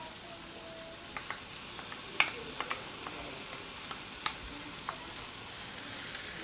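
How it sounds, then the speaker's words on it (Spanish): Chopped leek and bacon frying together in a pan give a steady, low sizzle with a few scattered crackles and pops, and no one speaks. "Sofreímos la cebolla puerro con la tocineta durante 1 minuto."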